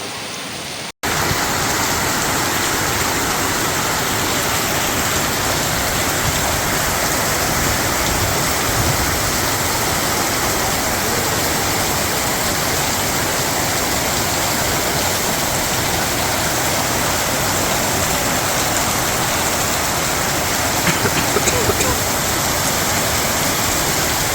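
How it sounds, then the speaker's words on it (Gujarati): Heavy rain with strong wind pours down in Gondal, Gujarat, in a loud, constant roar that lasts the whole time, with no voices. "ગોંડલમાં અત્યારે 14 તારીખનો જોરદાર વરસાદ ચાલુ થઈ ગયો છે"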